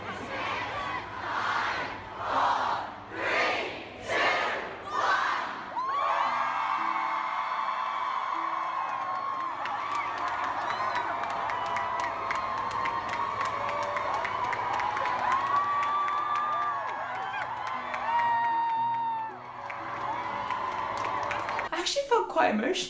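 A crowd of Harry Potter fans at a station counting down in rhythmic chanted bursts, then breaking into sustained loud cheering, whooping and shrieks as the train departs, with applause rising near the end.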